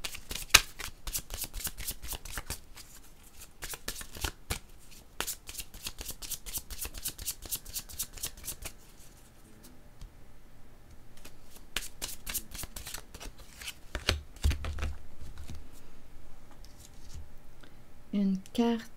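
Cards are shuffled rapidly and drawn for a card reading, the riffles coming in dense close bursts with brief pauses and a few soft taps as cards are set down.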